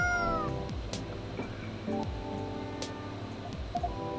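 A cat in the video game Coffee Talk 2 meows amid soft background game music, with several short, light calls spread across the moment.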